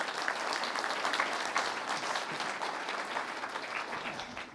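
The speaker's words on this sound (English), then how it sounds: "So please welcome him with a round of applause." An audience applauds to welcome former Pakistani Prime Minister Shaukat Aziz: steady, full clapping from a large crowd that holds even throughout, then tapers slightly at the end.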